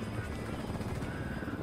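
Helicopter in the tactical shooter game Ghost Recon Wildlands, a steady low rotor drone filling the scene, fairly close and continuous throughout.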